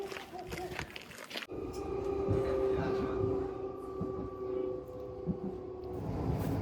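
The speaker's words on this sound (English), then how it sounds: "Well, we just made the 11:19 train. Just got off the S-Bahn line." An S-Bahn commuter train at Marienplatz station in Munich, heard from close by: a steady rumbling run with a sustained metallic whine and tonal hum, some brief clatter, and station ambience throughout.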